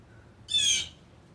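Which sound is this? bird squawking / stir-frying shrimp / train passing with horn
bird squawking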